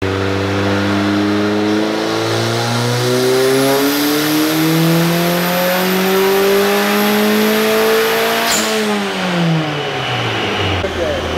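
Turbocharged Mazda Miata engine revving hard on a dyno, pitch sweeping steadily upward for about eight seconds to a loud peak, then dropping off abruptly as the throttle closes and revs wind down, with a constant high whine throughout.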